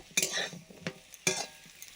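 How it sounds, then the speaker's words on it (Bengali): Slices of raw banana frying in a pan at home, quiet sizzle broken by a few sharp stirring scrapes and clinks of a utensil against the pan. "কলা ভাজাটা হচ্ছে"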